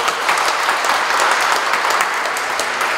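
An audience at the Incheon Startup Park vision and agreement signing ceremony applauds steadily, with dense, loud clapping from a large crowd running through the whole moment.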